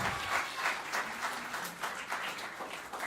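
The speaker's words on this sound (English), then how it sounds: "give a big round of applause to Joseph." A recital audience claps steadily, a soft, even wash of many hands heard from a distance, continuing for a few seconds with no talking over it.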